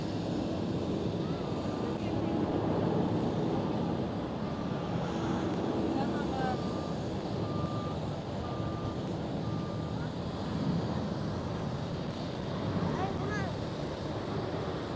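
Ryanair airliner departing runway 24 at Amsterdam Schiphol, a continuous broad jet roar filling the air with steady wind noise and intermittent beeping tones in the background.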